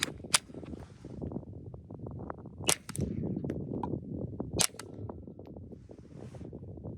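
Three sharp, muffled cracks from a suppressed Sig Sauer P322 pistol, supersonic then subsonic rounds, spaced a couple of seconds apart, each a brief snap over a steady low rumble of background noise.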